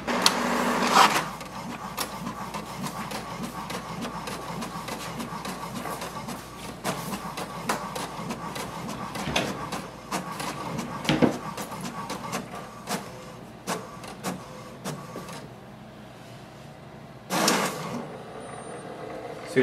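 An HP DeskJet 2742e inkjet printer making a copy, a steady mechanical whir with rapid ticking and clicking of the carriage and paper feed, punctuated by louder thumps near the start and end, heard close with no talk.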